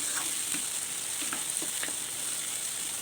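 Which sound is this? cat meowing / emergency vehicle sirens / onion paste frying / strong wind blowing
onion paste frying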